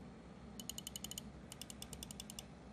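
Main button clicks of an EWEADN S9 V2 gaming mouse: two quick runs of about eight crisp, sharp clicks each, close and alone over a faint background hiss.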